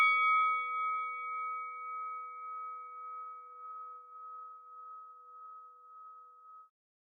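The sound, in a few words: long ringing bell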